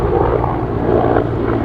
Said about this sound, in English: the helicopter, I think they've come for the president